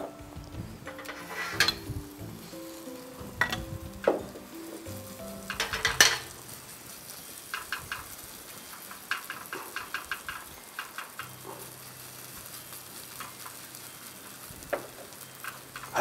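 A grated potato pancake fries gently in vegetable oil in a heated pan. A soft, steady sizzle is broken by scattered utensil clicks and clanks, louder early on and sparser later.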